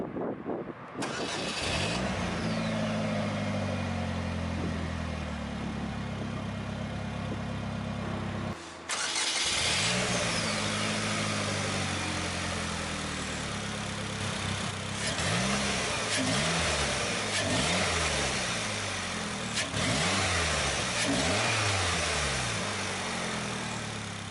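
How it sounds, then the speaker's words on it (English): A 2016 Polaris Slingshot reverse trike's 2.4-liter four-cylinder engine cranks and fires up via a start button, then settles into a loud, steady idle with repeated throttle blips rising and falling, close by. "hit the red engine start button in the center console to start the engine"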